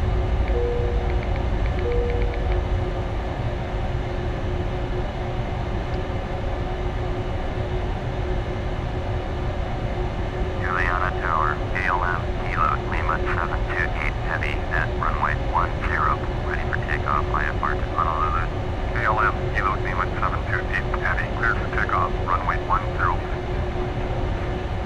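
Airliner engines hum at a steady, loud drone on the runway at Princess Juliana International Airport in Flight Simulator X, while a voice speaks over the engine noise partway through.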